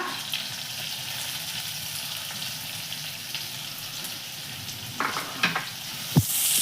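Curry leaves, green chilli and finely chopped onion sauté in a pan for appe, giving an even, close frying hiss; a few scraping stir strokes and clinks come near the end.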